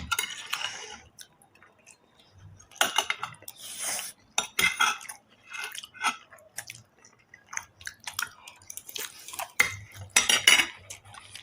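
Metal cutlery scrapes and clinks against a giant plate of pasta weighing about a kilo during eating, in irregular close bursts of sharp scratches and taps separated by short quiet gaps, with no talk.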